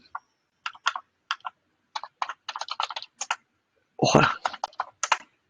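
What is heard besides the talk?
typing a password on a computer keyboard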